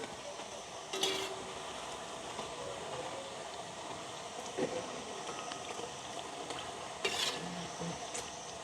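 Thattai rice crackers fry in hot oil with a steady, even sizzle, broken by a couple of brief clinks of a utensil against the pan.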